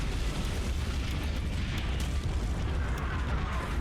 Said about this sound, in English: The Bismarck and the Tirpitz are firing on the Brazilian fleet.